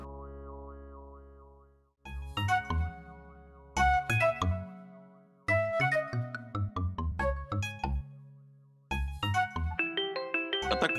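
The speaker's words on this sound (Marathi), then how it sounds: "आता कोणाचा फोन आला मध्येच?" Mobile phone ringtone playing, a bright electronic melody in repeated rhythmic bursts after a short warbling tone, clear and alone with no talk.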